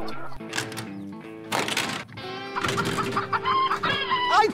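A chicken clucks loudly in a choppy series of squawks and drawn-out crowing calls, cut together in bursts with short gaps between them.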